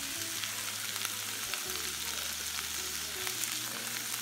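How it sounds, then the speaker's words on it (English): Celery sizzles steadily in a hot pan, a soft continuous frying hiss with faint stirring clicks and a low hum underneath, close and quiet throughout. "So I saute this one to cook, then I add some oyster sauce and black pepper."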